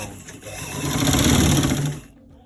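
A sewing machine stitches around a V-neckline in one steady, fairly close run that swells and then stops abruptly near the end, with no talk over it.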